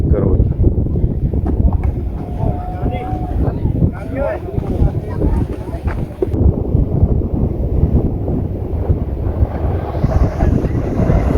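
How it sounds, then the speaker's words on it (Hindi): Strong wind gusts at a hilltop viewpoint near the coast roar and buffet the microphone continuously, loud and close, while someone talks throughout. "यहाँ बहुत हवा चल रही है"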